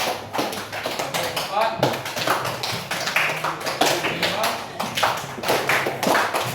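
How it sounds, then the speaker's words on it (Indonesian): A group claps in a counted rhythm during a classroom guidance session, with sharp, evenly spaced hand claps heard close by between spoken counting. "Kalau tepuk 1 seperti ini, 2 seperti ini, 3, 4, 5."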